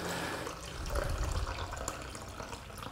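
Yellowish film developer is poured from a developing tank back into its container during home processing of black-and-white negative film, a short gurgling trickle of liquid close by.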